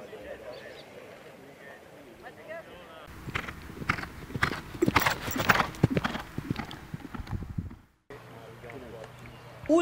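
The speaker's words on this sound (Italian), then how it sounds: "ancora 7 cavalli nella pista di Mosciano: Aberumia, Remo Rex, Zio Rosas, Zenios, Agai" Racehorses gallop bareback on the track at Mosciano, with fast, dense hoofbeats that swell and fade as they pass. An announcer's commentary and crowd noise run underneath.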